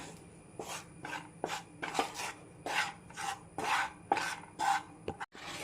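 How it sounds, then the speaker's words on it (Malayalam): Gram-flour batter being stirred in a pan, a close rhythmic scraping and rasping of spoon against the pan surface, about eight strokes at a steady pace with short pauses between them, ending in a brief knock. "നല്ല പോലെ ഇളക്കി യോജിപ്പിക്കുക"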